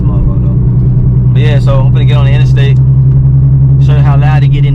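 A Nissan 370Z with a Tomei exhaust cruising on the interstate, its loud, steady engine and exhaust drone filling the cabin while someone talks over it.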